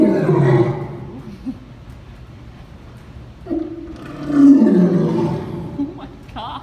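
Deep, rumbling roars from a lion, a low grunting call early and a louder roar later, with faint voices in between.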